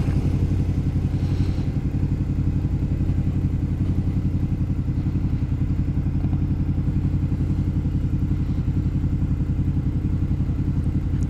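A Honda Interceptor VTEC motorcycle drones steadily while riding, a continuous low engine rumble with faint clatter and road noise that holds level throughout, and no speech.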